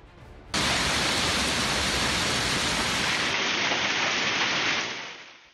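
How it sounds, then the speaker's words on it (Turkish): Hazelnut-sized hail pelts greenhouses in Kaş, Antalya, starting abruptly as a dense, loud, hissing roar of countless impacts that holds steady, then fades at the end, with no voices. "Taş gibi dolu yağdı."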